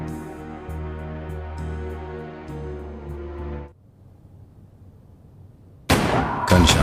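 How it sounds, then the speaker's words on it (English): Gunshots ring out at night in the adventure game Adam Wolfe, set in Frisco: after sustained music cuts to near silence, a loud, sharp burst of shots breaks in near the end. "Gunshots."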